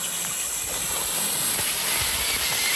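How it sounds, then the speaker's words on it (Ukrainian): A LiFePO4 lithium iron phosphate battery venting steam in a steady, loud broadband hiss that runs through the whole stretch, with no voices. "Почав парувати на всю катушку."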